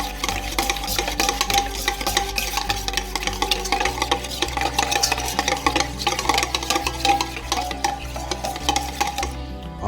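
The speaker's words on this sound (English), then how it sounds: "We're gonna whisk" Egg yolks with a pinch of salt and vanilla extract are whisked briskly in a bowl for a crème brûlée custard, producing rapid, continuous scraping and clicking strokes up close, with no voices.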